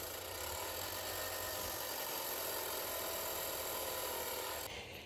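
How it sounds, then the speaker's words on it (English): A belt sander rounds off the top face of a wooden joiner's mallet head cut from firewood, making a steady, loud abrasive whir that grinds on evenly before easing off at the very end. "using a belt sander, I round off the top face of the head to match that curve"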